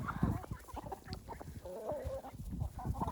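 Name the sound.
chickens clucking on a chicken farm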